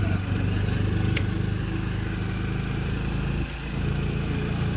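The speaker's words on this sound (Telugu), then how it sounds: "తిరుపతిలో ఆటో రైడ్" Auto-rickshaw engine running steadily during a ride through Tirupati, a continuous low motor drone close up with a brief dip in level partway through, no one talking over it.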